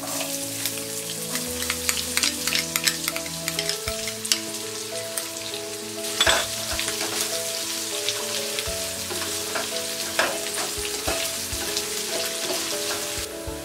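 Onions sizzle in a pan of hot oil with curry leaves for tomato rice. A dense, crackling fry hisses continuously, with spitting pops and a louder burst near the middle, close and steady, with no talking.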